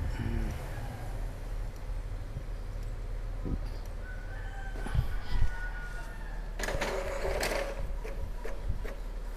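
An Epson L3210 inkjet printer running a test page after a paper jam is cleared, with whirring print-head movements, clicks and a paper-feed rumble, close by and steady.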